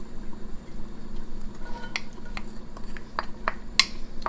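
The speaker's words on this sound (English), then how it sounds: "We're going to take this, stir it around, so we can give these vegetables a good butter bath." Vegetables being stirred as they sauté in butter in a pan for meatball filling, with a low sizzle under several sharp utensil clicks and scrapes, close by and with no voice.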